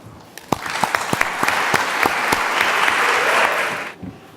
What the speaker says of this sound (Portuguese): Para quem pediria uma salva de palmas.